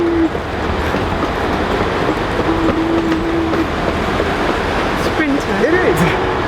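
A train rolls into a station on the route from St Pancras toward Skegness, a loud, steady rumble of wheels on rails with brief squeals and a horn-like tone, voices talking over the noise.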